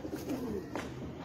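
Soft, low cooing from a rare Sialkoti pigeon rolls in a brief phrase, quiet and near, over a constant hum of background noise.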